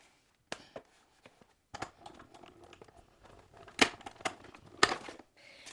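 Card paper being cut out with scissors for a light-up card, giving sparse, close snips and crisp paper rustles that come in scattered bursts with quiet gaps between them.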